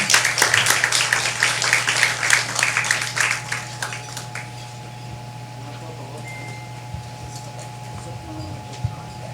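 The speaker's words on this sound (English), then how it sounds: "Can I invite everyone to give them a round of applause?" Audience at a Philippine circular economy agenda event clapping for the speakers, a moderate burst of applause that fades out after a few seconds and leaves a steady room hum.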